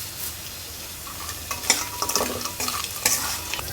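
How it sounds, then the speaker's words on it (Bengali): Lentil dumplings (bori) sizzle steadily in hot oil in a pan while a utensil scrapes and stirs them in irregular bursts, close and fairly loud. "এখানে একবারে রেডি করছি বড়ি ভাজা"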